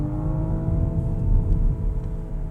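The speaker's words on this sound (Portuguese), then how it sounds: "vamos acelerar" A 2021 BMW M135i in manual Sport mode pulls hard in second gear, its engine note steady and loud, droning and building slightly, heard from inside the car with no talk.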